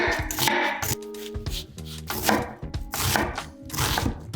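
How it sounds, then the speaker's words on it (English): A knife finely chopping onion on a board for a lentil dal, with quick irregular runs of close taps and short rhythmic bursts, steady and fairly loud with no talk. "Peel and finely chop the onion."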